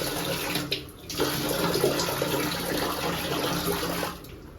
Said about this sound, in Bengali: তার আগে হাত মুখ ধুয়ে নিই